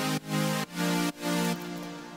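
Stacked, layered synth chords for a French house track pulse in a steady repeating pattern, dense and bright, ending on a held chord; loud and with no voices.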